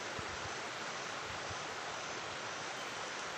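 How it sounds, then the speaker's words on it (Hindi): A small waterfall with water dropping from a height, heard as a dense, steady roar of rushing water that stays even and close throughout, with no voices. "यहाँ पर ये छोटा सा झरना ऊंचाई से नीचे की ओर गिरते हुए जल को झरना कहते हैं"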